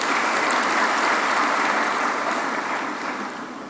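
An audience at a formal film screening event in Tanzania bursts into dense, sustained applause, a loud wash of clapping that holds steady and then begins to fade toward the end.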